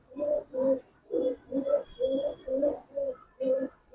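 Pigeons coo close by in a steady series of about nine soft, throaty calls, evenly spaced and clear with no talk.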